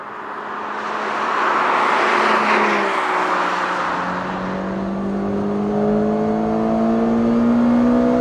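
A car accelerates hard along an open canyon road, its engine climbing in rising gear-pulled pitches with a brief shift and steady loud drone, close and alone without talk.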